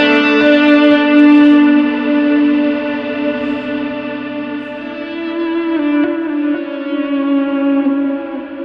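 A sustained, heavily processed electric guitar chord with a gritty, distorted tone and echoing tail, ringing steadily before slowly fading and shifting.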